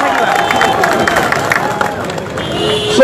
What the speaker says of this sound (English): I'd like to request all the participants to give a big applause for the students of Arunachal Pradesh, Tripura and other students